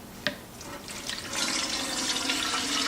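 Kefir poured through a strainer into an 8-quart pot, a soft tap at the start, then a steady close splashing pour that grows louder and continues to the end.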